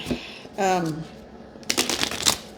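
A pocket-size Light Seer's Tarot deck is shuffled messily in brief riffling bursts, close and crisp, with someone speaking softly between the shuffles.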